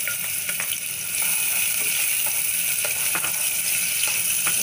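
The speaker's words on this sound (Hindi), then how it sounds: "फिर मैं इसमें प्याज थोड़ा सा ब्राउन करूंगी।" Chopped onion and cumin seeds sizzle in a hot pan, a constant near crackling hiss dotted with faint clicks of stirring.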